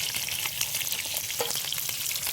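Fish frying in hot oil in a kadhai gives off a steady, dense sizzle that crackles continuously throughout, close by and with no voices.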